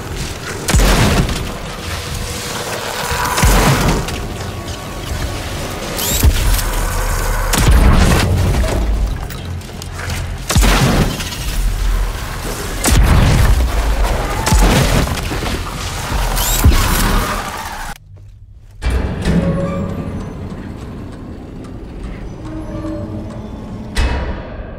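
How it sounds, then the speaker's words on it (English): Gunfire and exploding pylons in the video game Daymare 1994 Sandcastle: heavy, repeated booming blasts and rumbling crashes come in loud waves, then a sudden cut to quieter ringing debris near the end. "I need to shoot those pylons!"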